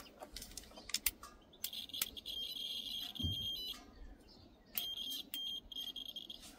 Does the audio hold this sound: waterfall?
no